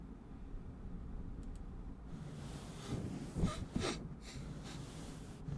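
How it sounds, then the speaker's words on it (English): Nighttime ASMR whispering setting with a couple of soft sniffles and breathy snorts near the middle, close and quiet over a faint hiss, no speech. "Sorry about the sniffles."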